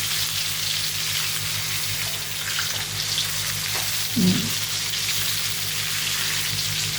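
Chicken and vegetables coated in teriyaki sauce sizzle and fry in a pan for spaghetti, a steady close crackle with a brief clatter as the pan is tossed, and no voices.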